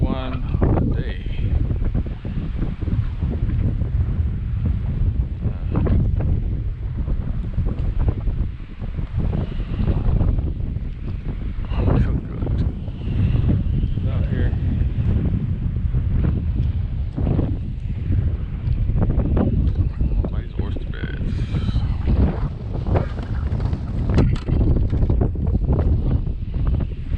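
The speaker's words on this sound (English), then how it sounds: "Windy as hell." Strong wind buffets the microphone while kayak fishing on a barge canal, a loud continuous roar with gusty surges, with water lapping faintly underneath.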